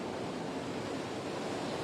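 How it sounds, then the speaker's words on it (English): Strong cyclone wind gusts roar over a choppy sea in Bowen, forming a dense, constant rushing wash of wind noise and surf with no voices. "These really strong gusts are coming through. They're blowing these trees."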